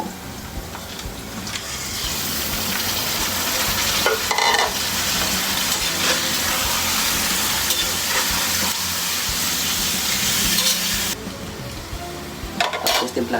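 Chicken sautés in a pan with oil for Filipino adobong manok, a steady loud sizzle with scraping stir sounds and occasional clatters of a utensil against the pan, no talking.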